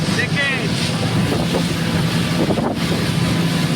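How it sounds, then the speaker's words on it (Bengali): Speedboat racing across the Maithon Dam reservoir in Dhanbad, Jharkhand, a loud close roar of hull, spray and wind buffeting the microphone, with voices faintly mixed in. "দেখেছো কতটা স্পিডে চলছে এই স্পিড বোর্ডটা"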